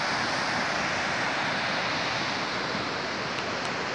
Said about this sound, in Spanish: Podemos apreciar el caudal del río Simpson ahí abajo